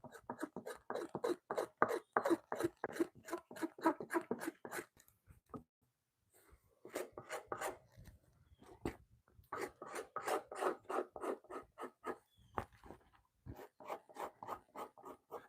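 Buckskin scraped by hand gives a rapid, rhythmic series of raspy strokes in close-up, coming in bursts with short pauses and a slight change of pace partway through, with no speech.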